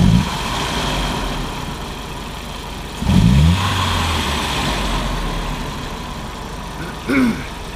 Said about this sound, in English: Let's give this a couple revs again.